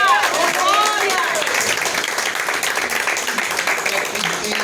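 Applause from a church congregation, a dense wash of clapping that holds steady for several seconds, close and fairly loud, with voices mixed into the sound.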